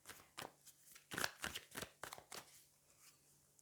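Tarot cards being shuffled and drawn at close range come as a handful of soft riffling bursts and flicks with quiet gaps, faint overall and without speech.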